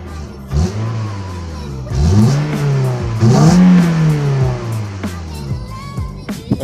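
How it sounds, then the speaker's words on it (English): A Scion car on its stock exhaust revs up several times, the engine note rising and falling in loud, close sweeps, with short pauses between bursts. "let's see what it sounds like with the stock exhaust"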